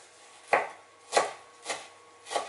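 Fresh dill being finely chopped with a knife on a cutting board, four distinct crisp chops spaced about half a second apart, close and clear with no talking.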